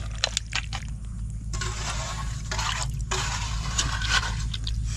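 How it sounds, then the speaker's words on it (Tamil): Water poured over raw chicken pieces in a plate or bowl outdoors in a forest, a steady splashing and trickling rinse over a low rumbling background. "வேறு தண்ணி ஊற்றி அலசிக்கிறோம் நண்பர்களே"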